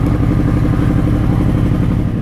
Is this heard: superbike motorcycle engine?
yes